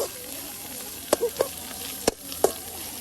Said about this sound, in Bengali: এই যে শাক ভাজাটা এখন প্রায় শেষের দিকে